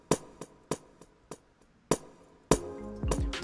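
A processed echo percussion sample in an Afrobeat production, run through reverb and delay: a rapid train of sharp metallic hits with decaying repeats, then a denser, louder sustained wash at the end.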